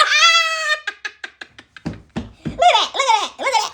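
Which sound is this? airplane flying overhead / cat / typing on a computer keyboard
cat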